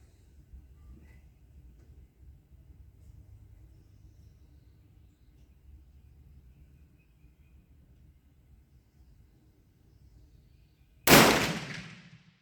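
A Kropatschek rifle fired once with a smokeless black powder substitute load, a single sharp loud report near the end that follows long near-silence and decays quickly.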